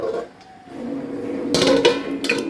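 A metal lid is set onto a cooking pot of Bengali rui fish curry, heard as a couple of brief clinks and scrapes near the end over low kitchen hiss.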